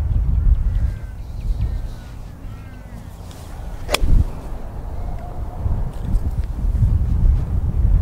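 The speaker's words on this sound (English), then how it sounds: "The wind here is so strong" Strong wind sweeps across an outdoor golf course, buffeting the microphone with a loud, continuous low rumble that swells and eases, broken by one sharp click midway.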